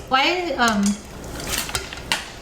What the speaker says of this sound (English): So the water's boiling, so we're gonna add in the mung bean sprouts.